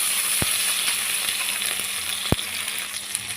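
Taro frying in a mustard and poppy-seed spice paste, a steady close hiss of sizzling oil with two sharp utensil taps against the pan.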